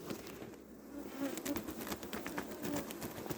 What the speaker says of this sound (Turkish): Evet sarıcı arıları çok arkadaşlar. Bayağı var.